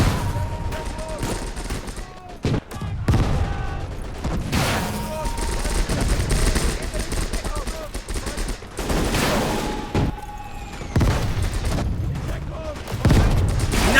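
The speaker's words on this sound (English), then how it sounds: "the mortar went perfectly there" Mortar and gunfire in the World War II battle game Call to Arms - Gates of Hell on the Eastern Front: repeated heavy booms and crackling bursts, some close and loud, others distant, with a voice talking in between.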